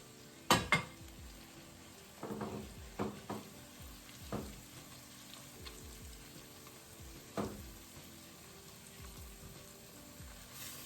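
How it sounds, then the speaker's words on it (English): Flour sautéing with onions, garlic, mustard and butter in a pan makes a soft, low sizzle punctuated by several sharp utensil scrapes and clinks against the pot, with no voices. "We're going to saute this for two minutes. Cooking the flour off of the onions and the garlic and the mustard and the butter."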